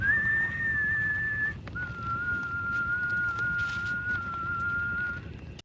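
A single person whistles a sustained tune in a TV drama scene, a clear steady melodic line holding two long notes, heard alone over a faint low background rumble.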